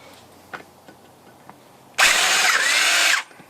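An old power drill with old bits whirs loudly for just over a second after a few quiet clicks and taps, then stops abruptly, during a Camaro 3.8 exhaust manifold broken-stud repair.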